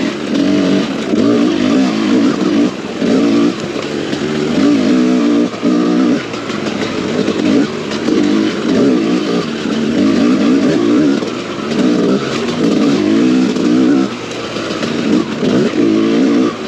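A 2022 TM EN300 fuel-injected motorcycle engine revs loudly and continuously up close, its pitch rising and falling in repeated surges with brief dips between pulls.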